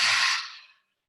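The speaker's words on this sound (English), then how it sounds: "Open the mouth, forceful exhale, navel center draws down." A single forceful open-mouth exhale during yoga pranayama breathwork, a close, loud breathy rush that fades out within about a second.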